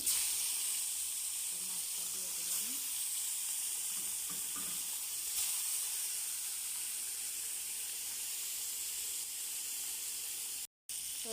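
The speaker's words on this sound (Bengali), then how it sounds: "যে আমার মাছ ভাজাটা হয়ে গিয়েছে" A steady, quiet sizzle of fish frying in hot oil runs throughout, with faint clinks and a brief dropout near the end.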